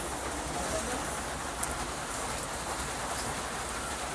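Steady, dense rainfall hissing on surfaces, a continuous wash of drops with no letup throughout.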